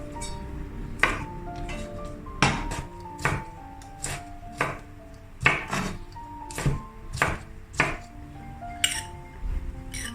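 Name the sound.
knife cutting long beans into short sections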